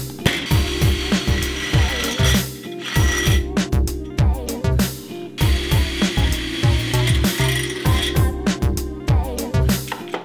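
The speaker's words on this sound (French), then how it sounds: "Je commence à faire les trous qui me permettront de boulonner ma raboteuse." A power drill boring bolt holes through the steel frame of a metal stand for a wood planer, whining in repeated short bursts with a rhythmic chattering bite, close and loud, with brief pauses between holes.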